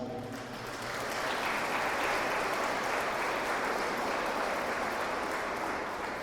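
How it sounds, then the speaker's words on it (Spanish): Wedding guests at a church ceremony in Analco break into sustained applause right after the couple's kiss, a dense, steady wash of many clapping hands that rises quickly and holds for several seconds. "les damos un fuerte aplauso"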